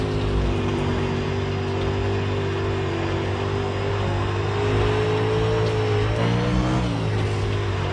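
Pro or Super dirt late model race car engine in the iRacing sim, a loud steady droning hum holding a constant pitch, shifting slightly near the end as the car slides through a corner.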